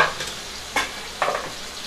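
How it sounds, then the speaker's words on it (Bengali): Eggplant slices frying in hot oil in a home kitchen, giving a soft steady sizzle with a few brief stirring scrapes, close and fairly quiet with no talking. "কি রান্না হচ্ছে, এই যে এখানে বেগুন ভাজা"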